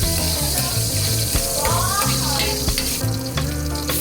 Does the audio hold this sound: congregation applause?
no